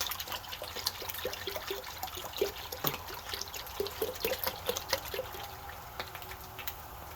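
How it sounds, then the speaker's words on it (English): Yogurt pours into an Instant Pot for a cold-start batch, giving a soft, wet trickle with small irregular splats and drips over several seconds against a low background hiss. "You take this yogurt and pour it in your whole thing, all the way in."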